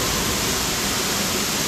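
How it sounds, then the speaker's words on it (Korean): Hot spring water dropping as a waterfall in a desert canyon, a loud, steady, unbroken rushing roar filling the whole moment. "이런 사막 협곡 사이에 이런 폭포 형태로 떨어지는 온천수가 있다는 게 와, 너무 신기하네요"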